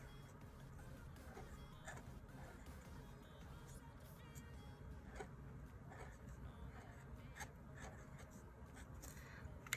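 Pen writing a to-do list in a B6 Kikki K planner, producing a faint steady scratching of strokes over a quiet room background hiss.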